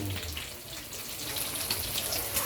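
Coconut milk from the first pressing pours into a pan in a soft, continuous liquid rush lasting the whole stretch, close by and steady, with no talking.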